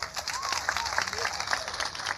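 Comedy show audience giving a brief burst of scattered applause in a live venue, faint and somewhat distant, with a few claps standing out.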